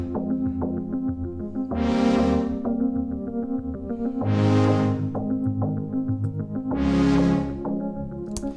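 Synthesizer chords in a broken, syncopated rhythm are layered over sustained chords. Three swelling, bright chord stabs rise and fall over a steady pulsing bed, loud and alone with no talking.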